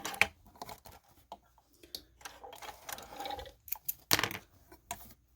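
A home sewing machine stitches a few more stitches at a boxed 90-degree corner, giving short close bursts of rapid mechanical clatter separated by pauses, with no talking.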